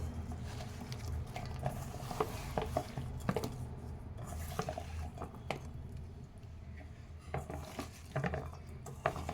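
A spoon scrapes and clinks against a cooking pot while spiced eggplant and dried fish curry with onions and curry leaves is stirred, irregular close metallic knocks and soft squishy mixing sounds.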